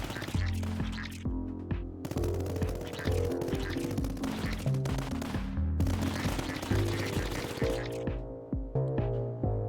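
Rapid bursts of gunfire in the video game Tower Dominion crackle throughout, steady volleys with short pauses and a low rumble underneath, fairly quiet overall with no talking.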